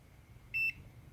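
A Sanwa digital multimeter set to continuity mode gives a single short, high-pitched electronic beep over quiet background noise.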